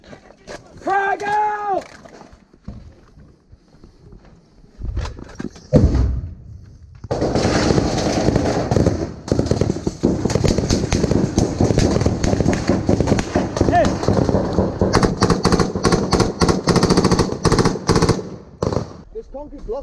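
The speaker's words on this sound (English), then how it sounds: "Keep your rifle on me. I'm throwing another frag!" A frag grenade explodes in a close-quarters firefight, a heavy blast followed by dense, rapid bursts of nearby gunfire. Shouting voices are heard at the start.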